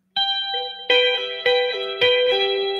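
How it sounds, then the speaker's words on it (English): Clean electric guitar tapping through chorus, light compression, reverb and delay: bright sustained tapped notes ring in phrases of four struck attacks, each decaying smoothly into the next with shimmering echo, played alone. "this sounds really good with a clean setting with maybe a little chorus, a little compression, and some reverb and maybe a little delay like I've got on here"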